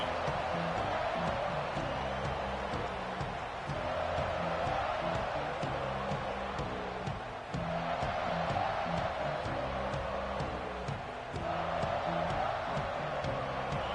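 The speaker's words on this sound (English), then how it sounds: "This crowd ready to make its presence known." A stadium crowd at a football game keeps up a steady, dense roar of cheering and noise, loud and continuous throughout, with a rhythmic chant or drumming pattern running underneath.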